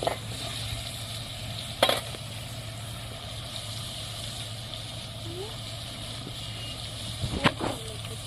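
Dry fish with ginger paste fries in oil over a wood-fired stove, a low steady sizzle with a couple of sharp utensil clanks and faint speech in the background.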